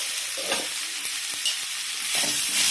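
Onion and tomato frying in a pan with coriander powder for mutton sambar, loud close sizzling broken by repeated stirring scrapes and spoon taps, no talk.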